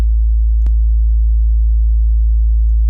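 A low, pure synthesized sine tone from Bitwig Grid with distortion, holding steady and loud, with a sharp click where the tone shifts slightly in pitch and gains a few faint upper harmonics.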